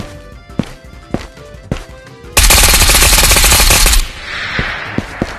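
Gunfire in the video game Ghosts of Tabor, a few isolated single shots followed by a sustained, very loud full-auto burst lasting over a second at close range, then scattered shots and reverberant noise afterward.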